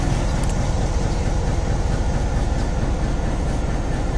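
A locomotive-hauled train rolls in on an excursion run, a loud, dense, continuous rumble of engine and wheels on rails, with no talking.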